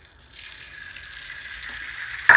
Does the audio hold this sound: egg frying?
yes